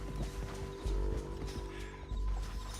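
Horse hooves in Red Dead Redemption 2, soft, steady clopping under a dense low rumble of game ambience and music.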